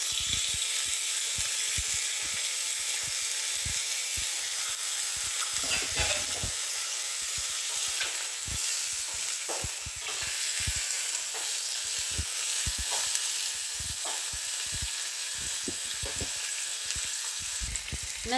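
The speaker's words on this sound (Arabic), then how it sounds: "دابا نحطوا اللحم ديالنا" Meat frying in a pan for Kabuli rice, a steady loud sizzle with crackling pops and occasional stirring scrapes, close and continuous without talk.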